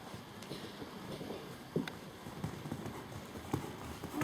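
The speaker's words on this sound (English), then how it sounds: "now pick up a bit of a canter." Horse cantering in a riding arena during a dressage clinic, with a steady rhythmic clip-clop of hooves at moderate distance and faint voices in the background.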